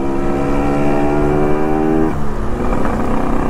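Yamaha RX135 two-stroke motorcycles riding on a highway, a loud, close, steady engine drone with a strong harmonic buzz that drops in pitch partway through as the bikes change speed.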